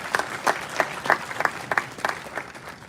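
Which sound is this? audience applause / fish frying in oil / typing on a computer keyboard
audience applause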